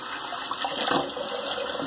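Running water rinses a shave mitten worn on a hand, a steady close splashing gush lasting under two seconds.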